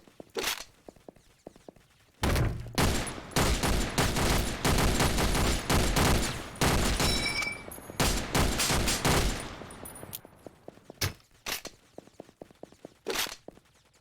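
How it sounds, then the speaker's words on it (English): Loud, rapid gunfire from an M1 Garand rifle in the top-down shooter game OTXO, with dense bursts of overlapping shots for several seconds, then sparse single cracks and impacts trailing off. "I do like the M1 Garand sound."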